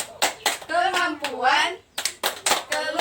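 A group of women at a P2K2 family development session stand and perform a clap chant. Sharp rhythmic hand claps punctuate their loud chanted words in a quick, regular pattern.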